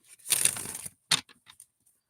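A burst of papery rustling and flicking as a deck of tarot cards is shuffled, followed by a few brief, quieter card snaps and taps, close up.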